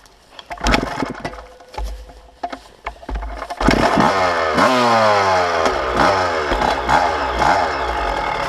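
A dirt bike engine sputters and catches, then revs steadily and loud at close range with rising and falling pitch sweeps, following a few rough bursts of cranking at the start.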